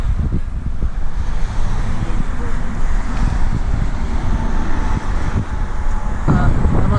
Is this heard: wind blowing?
yes